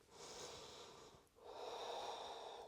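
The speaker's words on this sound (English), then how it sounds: "Pausing here and breathing." Slow, steady breaths drawn and released during a pause in a full-body strength yoga flow: one long airy inhale, a brief gap, then a longer exhale, close and quiet with no talking.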